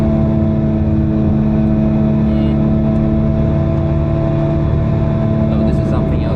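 A 1000hp 9ff Porsche Turbo engine pulls hard around the Nürburgring, its loud, steady, tonal drone filling the cabin throughout with a constant low rumble underneath.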